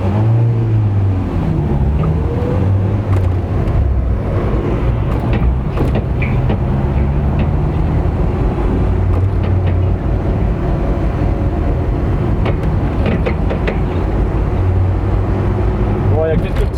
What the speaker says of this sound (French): il y a quelques petits ratés avec le starter éteint